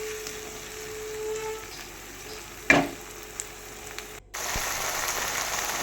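Ginger-garlic-chili and tomato paste fries in a pan with a quiet steady sizzle, broken by one sharp knock partway through and a brief cut before the sizzle returns.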